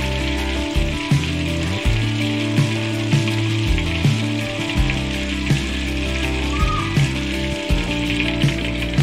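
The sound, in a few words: bay leaves sizzling in hot oil in clay pot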